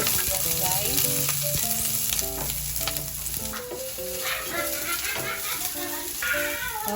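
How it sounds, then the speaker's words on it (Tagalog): Garlic and onion sizzle in a frying pan, a dense continuous hiss close by, mixed with background music throughout. "Isa tayo ng bawang sibuyas, guys."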